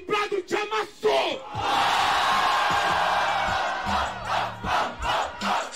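Audience at a Brazilian freestyle rap battle bursts into a loud, sustained roar of cheers and shouts after a few quick voices, then breaks into scattered yells and excited talk.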